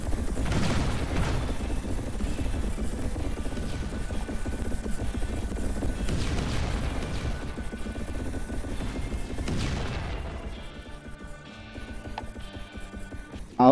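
Turrets in the Hex Defense VR tower-defense game fire in dense, continuous volleys of booms and crashes, loud and layered for about ten seconds before thinning out into quieter scattered sounds.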